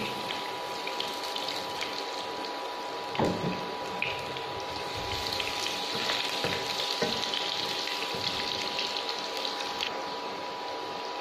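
Finely chopped ginger and garlic go into hot oil with curry leaves in a pan, giving a steady, close sizzle and crackle with a few stirring knocks, no voices over it.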